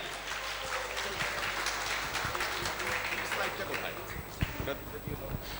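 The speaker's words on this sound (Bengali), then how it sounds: "জোরদার করতালি।" A crowd at a job fair and entrepreneurs event claps steadily to welcome a speaker to the stage, a dense sustained applause from a large audience with a few sharper claps standing out near the end.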